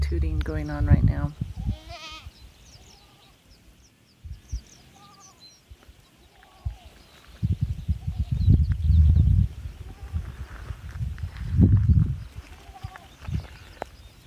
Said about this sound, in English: There's a lot of goat tooting going on right now.